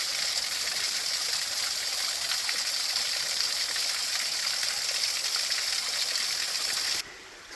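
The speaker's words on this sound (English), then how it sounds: "So water continues down." A stream runs down a rocky wooded slope where a road was repaired after storm damage, its water rushing steadily and fairly close for about seven seconds before the sound drops away abruptly near the end.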